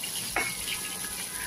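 Dried shrimp dropped into hot oil in a wok, giving a sudden burst of sizzling and stirring that settles into a steady frying hiss with no one talking.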